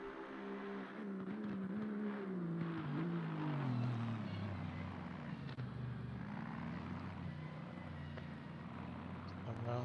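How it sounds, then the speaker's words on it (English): Aston Martin race car in a racing sim, heard onboard, engine revving and shifting with rising and falling pitch as it runs through corners; a commentator talks over the engine throughout. "We now go on board with Berno Reitzmer on a quite strikingly liveried Aston Martin."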